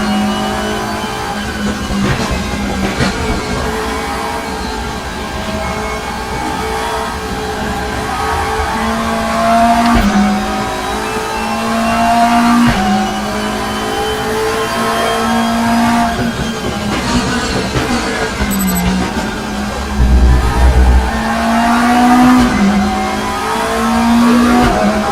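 A race car in the RaceRoom racing game, its engine revving hard and rising and falling in pitch through gear changes and downshifts, loud and continuous, with a short burst of tire noise near the end.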